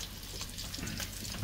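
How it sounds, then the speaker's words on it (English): Bacon and hog jaw frying in a pan in the oven, a dense continuous crackling sizzle heard close up for a brief stretch, with no voices. "we fry our bacon and hog jaw in the oven"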